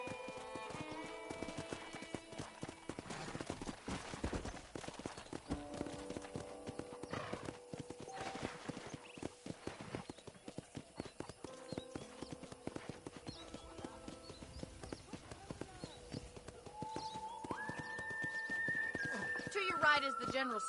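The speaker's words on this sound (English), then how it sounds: "let's see if you can still ride a horse." A horse is ridden in the video game Red Dead Redemption, hooves clip-clopping in a steady rhythmic gait throughout, with a neigh near the start and soft ambient game music underneath.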